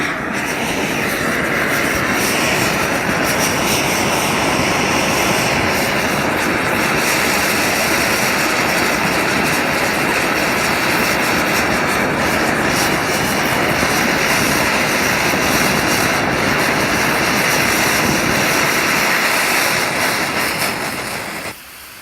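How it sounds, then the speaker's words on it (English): Primus multifuel stove burning in a steady, loud, continuous roar for about twenty seconds, then abruptly cutting out at the very end as its fuel line drains. "it'll drain the fuel line all the way to the burner, and then it'll go out."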